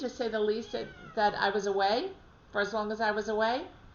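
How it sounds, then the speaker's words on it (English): A house cat left alone for a week cries with long, drawn-out wailing meows in two or three bursts, close and prominent, while a person talks over it. "If you hear my cat crying in the background"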